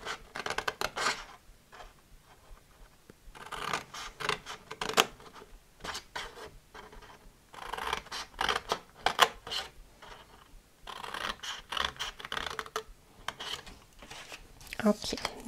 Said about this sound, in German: Ich drehe mir das jetzt einmal rum und schneide mir das hier oben nochmal schön ein.